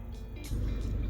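About three electric utility inspection vehicles roll in on a road in Kumage District, Yamaguchi, their engines a low rumble that swells noticeably louder halfway through, close by and without voices.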